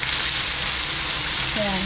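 Two eggs crackle and sizzle in a hot pan over fried rice, a steady dense frying hiss lasting throughout, close and fairly loud, with a brief voice-like tone near the end.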